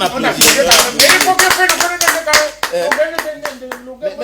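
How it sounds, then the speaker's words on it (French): A small group claps close and loud in a quick, roughly rhythmic pattern of distinct hand claps while voices talk and call out over it, the clapping thinning toward the end. "On applaudit."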